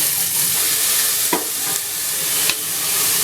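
Two large onions being added to hot oil and stir-fried in a pan, a loud constant sizzle with a couple of short scraping strokes from stirring.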